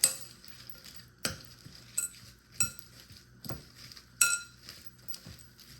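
A utensil stirs chopped bearded dragon food coated in Missouri Tortoise Diet powder in a bowl, giving about eight sharp clinks and scrapes at an irregular pace, close and quiet with no talking.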